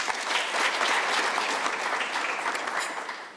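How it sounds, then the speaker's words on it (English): A conference audience claps for the keynote presenters, a dense, lively round of applause at close range that holds steady and then eases slightly toward the end, with no talk over it. "Can we give them a round of applause?"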